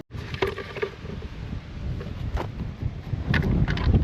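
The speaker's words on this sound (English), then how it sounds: "It's so windy." Strong wind blows across an open vegetable field, buffeting the microphone in gusts of rumbling noise, with a few light knocks and rustles, growing stronger toward the end.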